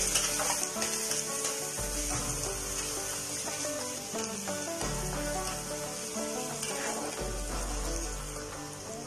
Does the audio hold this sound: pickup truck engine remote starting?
no